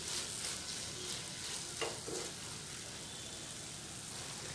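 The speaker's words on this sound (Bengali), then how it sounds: "স্প্যাচুলা দিয়ে একটু ভালোভাবে এইভাবে ম্যাশ করে নেব" Paneer bhurji sizzles softly in a pan while being mashed and stirred with a spatula, a steady, fairly quiet frying hiss with a couple of faint scrapes partway through.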